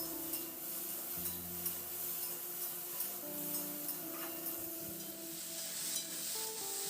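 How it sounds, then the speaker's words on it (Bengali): Okra and potato pieces coated in spices are stirred and fried in a pan, giving a steady close sizzle with repeated scraping and ticking strokes of the spatula throughout, with no talking. "এবার খুব ভালো করে নাড়াচাড়া করে মশলাটা আলু আর ভেন্ডির সঙ্গে মিশিয়ে নিয়ে মিনিট 2-3 মতো একটু নাড়াচাড়া করে ভেজে নেব।"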